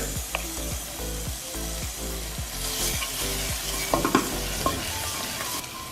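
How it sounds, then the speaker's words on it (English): Ginger and garlic sizzle steadily in a hot pan while a utensil stirs and scrapes in a repeated rhythm, with occasional clinks. "keep frying until the whole mixture is nice and golden brown"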